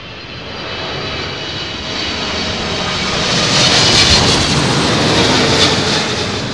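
Airliner with raked wingtips landing in high winds at London Heathrow, a broad jet engine roar swelling as it approaches and passes close, loud and continuous with wind noise.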